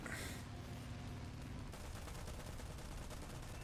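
Sustained gunfire from a War Thunder biplane battle, a dense rattling barrage of repeated shots that holds steady and loud throughout, with a bright burst at the start and no talking.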